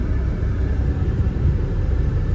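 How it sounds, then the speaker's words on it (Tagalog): Bus engine rumbling as a passenger bus pulls away in the early morning, a loud, steady low drone heard from inside the vehicle, with no talking. "Palabas na yung bus namin."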